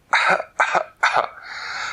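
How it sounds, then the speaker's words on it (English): Three harsh coughs in quick succession, close and loud, followed by a raspy exhaled breath. "she was still coughing away."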